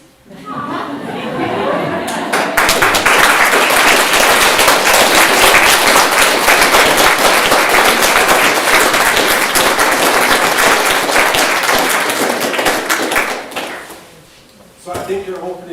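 An audience applauds after a talk on rethinking the ornamental garden, sustained dense clapping from a room full of people lasting over ten seconds before fading into a brief pause and faint noise.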